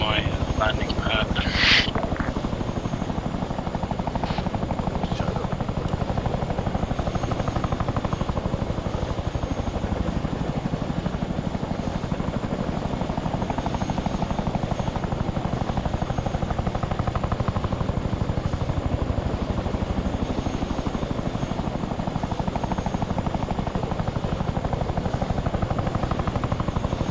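A helicopter hovering in Arma 3 gives a steady, loud rotor and turbine drone throughout, with a brief higher burst near the start and radio voices talking over it.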